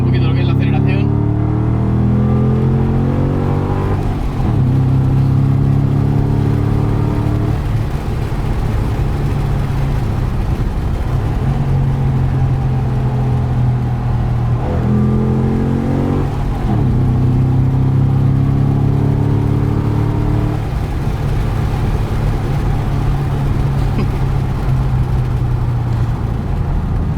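A Ford Mustang V8 Roush accelerates hard, its engine note climbing through several gears with a brief drop at each shift, loud and steady from inside the car, with a voice speaking at times.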